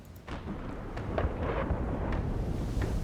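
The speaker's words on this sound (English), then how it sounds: "The distant thunder of cannon fires echo across the sea." Naval cannons fire across the sea during a ship battle in Pillars of Eternity II: Deadfire, a series of dull, rumbling booms rolling in like distant thunder over a low, continuous roar.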